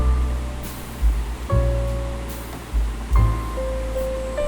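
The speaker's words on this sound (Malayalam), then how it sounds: "അത് വലിയ തോടുകളായിട്ട് ഒഴുകി പോകുന്നതാണ് ഈ കാണുന്നത്" A broad meltwater stream rushes over large boulders, a steady full roar of flowing water, close and continuous with no voices.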